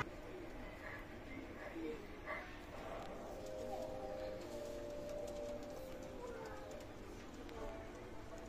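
Pakistani high-flyer pigeons coo softly in a loft, faint and steady under continuous background noise, with someone talking intermittently nearby.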